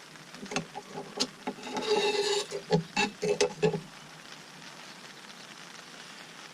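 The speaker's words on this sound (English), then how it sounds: "My gasket stuck to the back of the plate, so I'm just going to clean up the surface" Old gasket material is scraped and scrubbed off the metal surface of a Yamaha four-stroke outboard's impeller wear plate, a close series of short rasping strokes and taps for about four seconds, then quiet.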